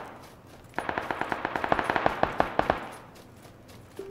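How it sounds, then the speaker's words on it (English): Rapid automatic gunfire in a video game, a burst of about twenty sharp shots over roughly two seconds, loud and close, then fading out. "They're shooting at me."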